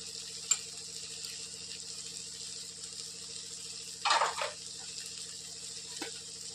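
Homemade black masala, coriander powder, turmeric, red chilli powder and asafoetida sauté in hot oil for a dried-fish and ridge gourd dish, giving a steady close sizzle with a brief louder crackling burst midway and a few small clicks.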